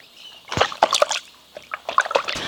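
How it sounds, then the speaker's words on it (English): Water-filled gumboots slosh with each step on a rainy day, giving a handful of soft, wet squelching splashes in an uneven walking rhythm, close and moderately loud. "Auntie's gumboots are full of water and they go slosh, slosh, slosh when she walks."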